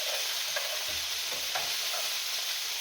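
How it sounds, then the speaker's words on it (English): Breakfast frying in a pan in a home kitchen, a steady close sizzle with soft crackles and occasional stirring scrapes, no talking. "Hopefully you can hear me, because this is sizzling."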